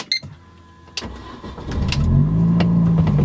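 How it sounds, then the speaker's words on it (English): A 2005 Mini Cooper S John Cooper Works (R53, supercharged) engine cranks with a few clicks and whirs, then catches and settles into a loud, rising idle rumble. "Car's on, and let's go for a drive."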